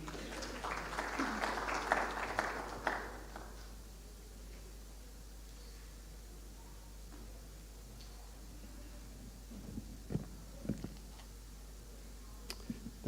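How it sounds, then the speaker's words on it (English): Audience applause at a Konrad Adenauer Stiftung event in Kenya rises briefly for a few seconds, then dies away into a quiet room hum with a few faint scattered ticks and knocks. "A round of applause for him."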